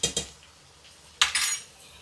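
A metal spoon scrapes and clinks against a pressure cooker pot while dal khichdi ingredients are roasted toward golden brown, in two short bursts of clatter with a quiet pause between, close by and with no talk.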